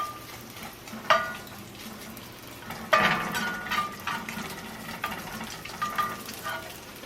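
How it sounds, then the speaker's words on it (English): Beef fat rendering in a pan gives a steady crackling sizzle, with a few louder bursts and clinks as the pieces are stirred. "So we're just going to keep rendering out this beef fat until we got some crispy bits"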